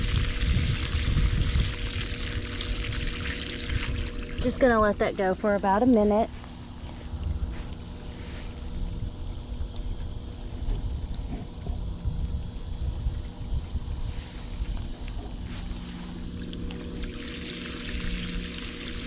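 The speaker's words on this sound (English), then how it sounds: "But we're just cleaning it and letting it backwash." An Intex Krystal Clear sand filter pump backwashes above-ground pool water, giving a continuous rushing, trickling flow of water outdoors. Someone talks over it at times.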